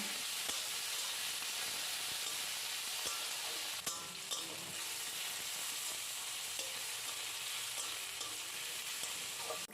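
Chili, tomato and onion fry in oil with a steady, close, even sizzle and hiss, joined by a few faint scrapes and clicks of stirring, and no one talks.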